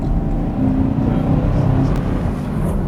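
A 2018 Chevrolet Camaro SS with a V8 engine accelerates hard in sport mode, a loud, deep, continuous engine roar heard from inside the car, with a voice talking over it.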